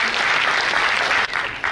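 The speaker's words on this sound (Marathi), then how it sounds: "छान, जोरदार टाळ्या" Loud, steady applause from an audience at a national education conference, continuous clapping with a brief dip near the end.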